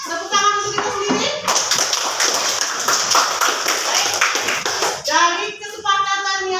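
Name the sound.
audience applause, clapping for themselves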